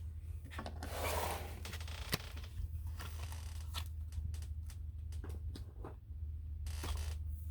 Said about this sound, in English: So let's pull some romance cards.